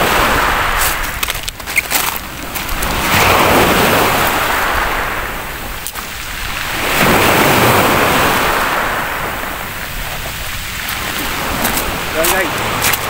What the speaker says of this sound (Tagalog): Medyo maalon kasi at medyo malakas ang hangin.